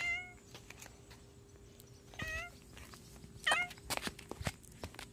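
A pet cat meows several times indoors, short rising and falling calls spread across a few seconds with soft footsteps and light movement between them, fairly close and otherwise quiet.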